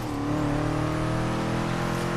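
A rally-cross car in the Forza Horizon 3 video game drones along with a steady, loud engine note and layered harmonics, holding an even pitch throughout without any talk.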